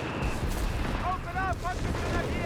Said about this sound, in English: Another artillery strike here out of the howitzer